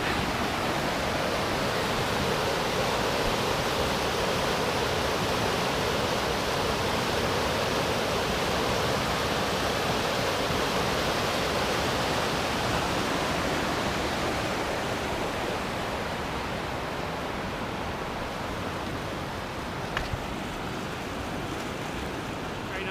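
Big Creek rushes through the Great Smoky Mountains in February, a loud, unbroken wash of flowing water filling the whole span, easing slightly near the end.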